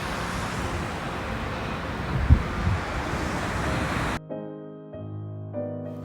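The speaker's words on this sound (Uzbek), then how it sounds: "Faqatgina dengiz shovqini eshitilib turardi." Sea waves wash onto a quiet shore in a steady broadband rush with wind buffeting the microphone, then the sound cuts abruptly to a quieter indoor hum.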